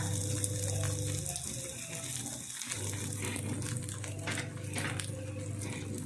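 Edible gum (gond) frying in hot oil for methi laddoo, a steady bubbling sizzle that fills the whole stretch, dipping briefly midway before resuming, close and fairly loud with no voices.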